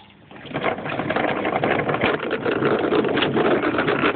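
A child's toy tractor motor starts up after a quiet moment and whirs steadily and loudly close by, a continuous buzzing drone with slight fluctuations and no speech.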